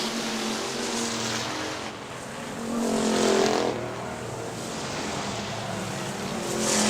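Factory stock race cars battle for the lead at Hartford Speedway Park in Michigan, their engines a steady, dense roar that swells loudly midway as the pack passes close, then settles back into a continuous drone with no voices.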